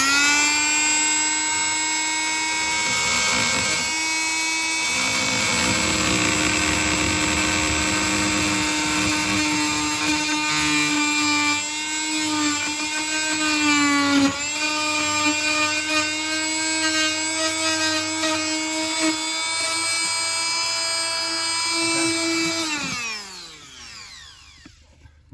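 An oscillating multi-tool saws through a heater pipe while replacing the heater radiator in a Hyundai i40: a loud, steady high-pitched whine with wavering pitch drones for over twenty seconds and then winds down at the end.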